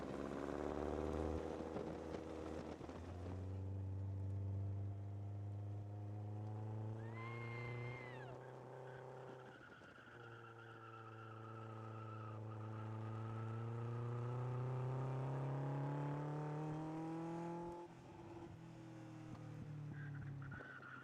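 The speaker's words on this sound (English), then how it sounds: "This car is very powerful and very fast." A powerful, fast Lotus sports car accelerates hard through the gears, its engine pitch climbing and dropping at each shift over about twenty seconds, faint and distant-sounding, with no speech.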